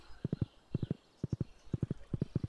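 Horse hoofbeats in the Stardew Valley video game, a steady clip-clop walking rhythm in quick groups of three or four light thuds, close and clear with no talk over it.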